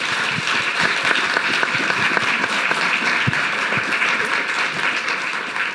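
Sustained, dense audience applause fills a regional health meeting hall, steady and fairly loud throughout with no break.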